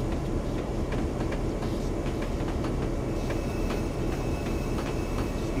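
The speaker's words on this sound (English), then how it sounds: "Freight train coming through." A freight train rolling past in a train simulator game set in Feather River Canyon, pulled by an EMD FP7 locomotive: steady rumbling wheel and car noise with faint rhythmic clicks, continuous and fairly loud, with no talk.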